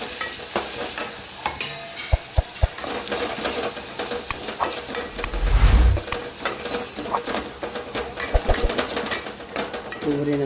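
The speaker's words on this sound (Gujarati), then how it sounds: "સરસ મિક્સ કરી લઈએ." Onion and masala frying in a pan with turmeric and salt, stirred with a utensil; steady close sizzle and hiss with repeated scraping and clinks against the pan, a brief louder thump midway, no talking.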